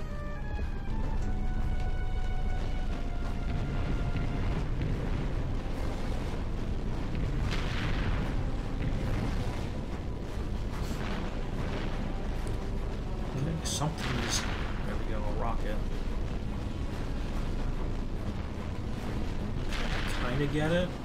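Continuous explosions, booms and blaster fire from a Ratchet and Clank space battle against enemy ships play loudly and densely throughout, with bursts and pops layered over a rumbling game soundtrack while players talk over it.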